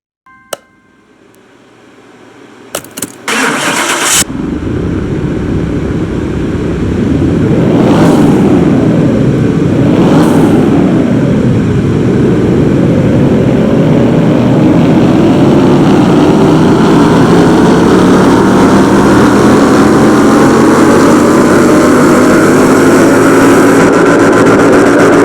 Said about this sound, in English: Let's see how it sounds on the dyno.